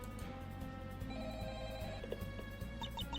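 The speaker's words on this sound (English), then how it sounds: "A phone call?" A phone rings in the courtroom video game Assetflip Attorney, a repeating electronic ringtone that carries over a steady musical backing, moderately loud with no speech.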